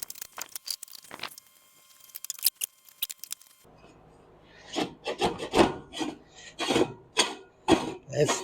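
A 7-blade engine fan being fitted with a 3-row aluminum radiator drags and scrapes, giving repeated close rasping rubs and scuffs in uneven strokes, louder and more rhythmic in the second half.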